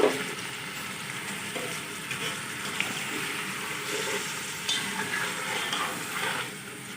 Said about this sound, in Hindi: अब हम टमाटर का पेस्ट डालेंगे।